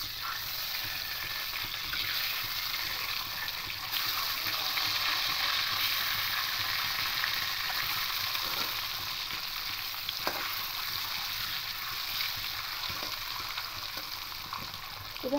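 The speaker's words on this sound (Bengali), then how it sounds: "এবার ডিমগুলো একে একে দিয়ে দেব" Eggs frying in oil in a pan for a yogurt egg curry, giving a steady close sizzle and hiss with soft stirring and scraping now and then. The sizzle goes on evenly the whole time, and nobody speaks.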